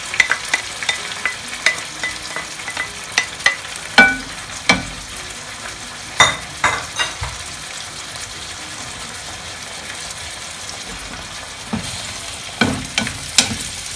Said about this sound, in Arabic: ضفت عليه الطماطم وضيف الثوم